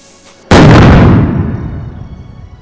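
A cannon fires in the video game Ylands with one sudden loud boom that rolls off into a long, fading rumble, with no voices over it.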